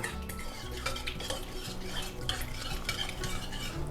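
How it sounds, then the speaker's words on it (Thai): White turmeric salad ingredients with lime juice being stirred together in a bowl: soft, steady utensil scrapes and light clinks, faint and close, with no talk. "คนส่วนผสมทั้งหมดให้เข้ากัน"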